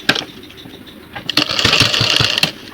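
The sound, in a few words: sewing machine stitching a jeans jacket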